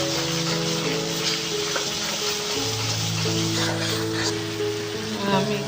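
Ground spices including turmeric, chilli, cumin, coriander and garam masala sizzle steadily in hot oil in a pan for jackfruit and prawn curry, a continuous frying hiss with a low hum underneath.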